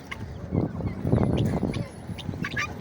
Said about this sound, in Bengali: এই যে তিতির মুরগি, আসলে আমিও এটা ফার্স্ট দেখলাম, এত হোয়াইট তিতির মুরগি আমি এর আগে দেখি নাই